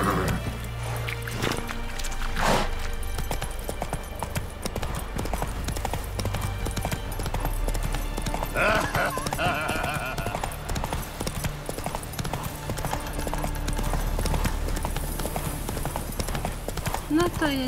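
Rhythmic hoofbeats clip-clop steadily throughout in the video game The Witcher 3, a horse moving at a walk with an occasional snort, over a constant background of ambient sound.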